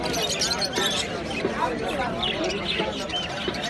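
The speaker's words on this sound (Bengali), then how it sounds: "শালিক পাখির সাথে বাজরিগারও দেখতে পাচ্ছি" Small budgerigars chirp at a busy open-air bird market, with a dense wash of bird calls running continuously under constant crowd chatter and talking.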